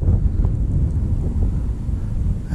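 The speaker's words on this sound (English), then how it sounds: "This wind is terrible." Strong wind blows outdoors at a fishing bank beside the water, buffeting the microphone with a continuous low rumbling roar.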